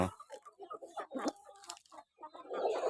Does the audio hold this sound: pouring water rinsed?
no